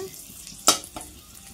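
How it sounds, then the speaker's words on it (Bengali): Dry red chillies and bay leaves tempering in hot oil, a low frying hiss with one sharp spatter or utensil clack and a fainter second one. "শুকনো লঙ্কা তেজপাতা ফোড়নে দিয়ে দিয়েছি"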